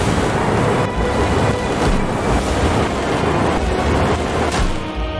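A thunderstorm card effect from the card game Slay the Spire rolls as continuous loud thunder and rain-like rumble, with repeated cracking strikes throughout, no talk.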